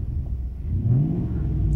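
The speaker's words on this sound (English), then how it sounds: "Car revs real nice." A 1998 Lexus LX470 with 116,000 miles sits idling with a low rumble, then its engine revs briefly, rising in pitch before settling, heard close by.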